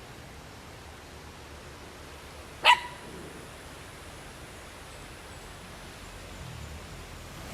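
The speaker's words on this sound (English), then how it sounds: "Are these your dogs?" One sharp dog bark rings out at moderate distance in a quiet rural spot, followed by still background air.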